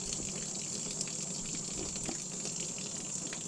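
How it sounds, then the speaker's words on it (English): Rag being rinsed under running water while cleaning leather boots, a steady splashing gush with small irregular sloshes, moderately close and fairly quiet, no talking. "You have to rinse that rag out"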